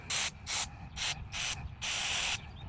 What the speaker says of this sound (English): Use it to spray the crap out of it.